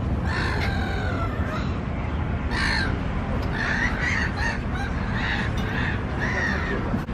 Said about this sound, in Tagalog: Mga ibon sa dagat.